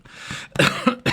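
A short burst of harsh coughs, two or three close together, loud and near, with no talking.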